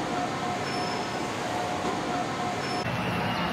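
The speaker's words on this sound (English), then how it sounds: "And that's the Disneyland train behind me." A steady, loud rumble of the Hong Kong Disneyland Resort line train rolling by fills the clip, with a faint high metallic squeal from the wheels.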